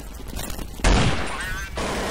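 Gunfire in Counter-Strike 1.6, a sudden loud burst at close range that carries on as a dense rattle of shots for over a second, over a low hum of game background.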